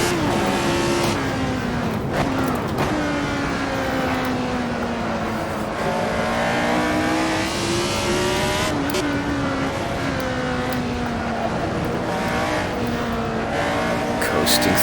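Lotus 72D race car engine in a racing game screams continuously at high revs, pitch rising and dropping through gear shifts and corners, with faint talk underneath.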